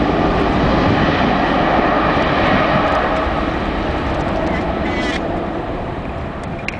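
A Santa Bárbara Airlines Boeing 767-300ER takes off from Madeira bound for Caracas, its loud, broadband jet engine roar steady and close, slowly easing as it pulls away, with voices talking nearby.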